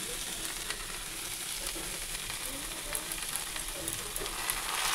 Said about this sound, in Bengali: এঁচোড় আর আলু এই যে ভাজা হয়ে গেছে, এবারে মশলা দিয়ে দেবো